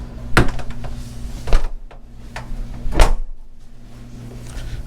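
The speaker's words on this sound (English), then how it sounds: "Let's shut that door behind me." A door swings shut aboard a 100-foot Horizon FD100 superyacht as someone heads down to the crew areas, giving a few sharp knocks and clunks over a steady low onboard hum, with no talking.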